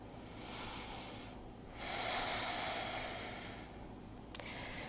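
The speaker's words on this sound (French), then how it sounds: "Observe la respiration." Slow breathing during a cooldown after exercise, a long inhale and exhale with a faint airy hiss rising and falling over a steady background noise, close and soft, with no talking.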